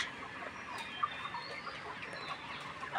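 Layer hens about 84 days old cluck softly in a poultry shed, scattered short calls overlapping at a modest distance with no talking.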